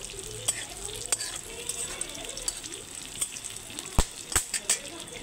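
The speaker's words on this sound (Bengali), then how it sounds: "তেলেতে তেজপাতা, এলাচ, দারচিনি ফোড়ন দিয়ে দিচ্ছি" Bay leaf, cardamom and cinnamon hit hot oil in a pan, giving a soft, continuous sizzle with a few sharp pops and clinks of a utensil, fairly quiet and close.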